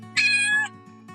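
A cat riding along in a car gives one clear, close meow over a steady low engine hum, then falls quiet.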